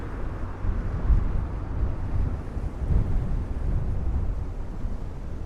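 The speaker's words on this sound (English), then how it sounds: "this is definitely a very challenging time to do this walk with all the wind blowing" Strong wind blows on a New York City street, a constant low roaring buffet against the microphone with gusty swells and no talk.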